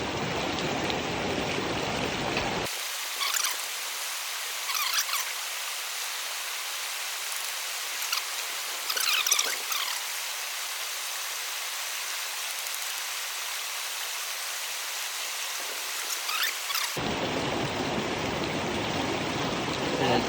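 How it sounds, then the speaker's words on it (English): Water and gravel are swirled in a gold pan outdoors while sniping for gold in New Zealand, a steady, close, rushing wash of water that continues for the full twenty seconds. "We've got Tristan here just panning down the pan"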